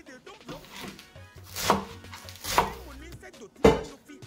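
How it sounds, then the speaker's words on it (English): Spinach being chopped with a knife on a board in a home kitchen, cut fairly coarse, a few distinct sharp chops spaced about a second apart, close and clear. "I don't like it to be like very thin, so I try to like cut it a little bit bigger"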